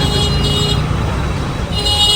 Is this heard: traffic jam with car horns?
yes